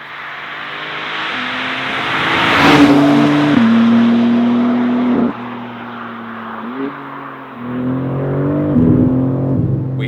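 A BMW M4 CSL engine revs hard at high speed, a loud close exhaust note climbing through gears with clear shift breaks and renewed pulls, partly piped into the cabin.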